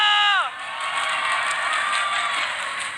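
Arena crowd at a Mobile Legends MPL Indonesia esports match cheering and applauding, a dense sustained roar throughout, with a brief tonal sweep at the very start.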